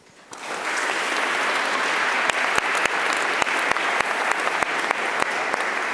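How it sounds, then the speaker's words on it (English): An audience at a talk on prosperity without growth breaks into warm applause for a speaker, swelling quickly after a quiet start into sustained dense clapping with a few sharp individual claps standing out, continuing to the end. "a very warm applause for Catarina das Neves."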